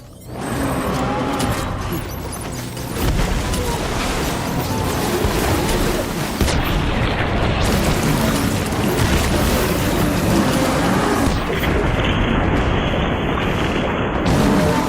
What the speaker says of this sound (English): Let's get that grenade launcher out.